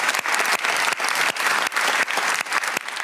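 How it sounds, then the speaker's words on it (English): Members of Parliament give a standing ovation, producing loud, dense, sustained applause from a large group in the chamber, steady throughout with brief dips. "Resounding applause as members of Parliament gave a standing ovation for nearly a minute"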